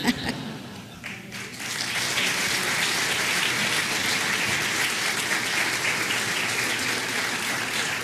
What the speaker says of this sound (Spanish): les pido otro aplauso